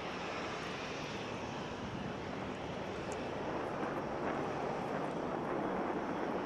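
Canadair CL-215/CL-415 water bomber aircraft engines drone in a steady, broadband roar, fairly faint and constant with no voices.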